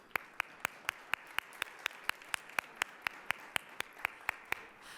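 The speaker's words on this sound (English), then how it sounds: "So let's give all of them a round of applause." Audience members at a community discussion event on homelessness among older adults clap in a faint, evenly spaced rhythm, about four claps a second, with sharp individual hits and no talking.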